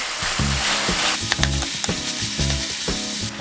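Ground meat seasoned with cumin and garlic fries in a pan for a taco casserole, giving a loud, close, continuous sizzle with rhythmic stirring scrapes and knocks throughout.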